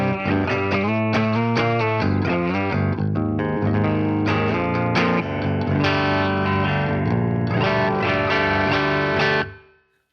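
Electric guitar played through a single pickup on its first voice setting in a low tuning, a clean tone with chords and single notes ringing densely for about nine seconds before fading out, close and without any talking.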